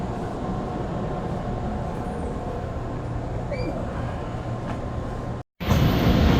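Indonesian commuter train on the line toward Rangkasbitung, a steady loud rumble with rolling wheel noise throughout, a brief dropout near the end, then a louder burst of running noise.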